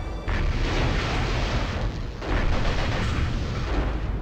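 Dense, continuous gunfire and booming explosions from a MechCommander Gold battle between mechs, a heavy sustained roar of shots and blasts with a brief dip before firing surges again.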